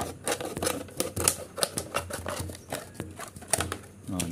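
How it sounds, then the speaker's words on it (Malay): Scissors or a blade cutting through a plastic bottle, giving a fast run of crisp, crackling snips and crinkles close by, with speech present in the background. "Okey, kita potong botol ini."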